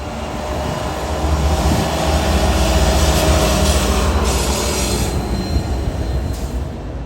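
A rare train rolls past close by, its wheels squealing loudly over a heavy, steady rumble of rail cars, with faint clickety-clack and no voices.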